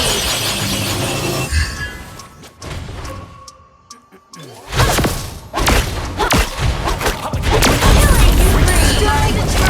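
Turret destruction in the Mobile Legends mobile game: loud layered thuds, shattering crashes and bursts of effects with game announcer voice cues, a brief quieter dip in the middle before the clatter resumes.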